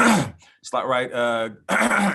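A man imitates a nervous throat clearing with a few rough, gravelly vocal rasps, close and clear, broken by short gaps.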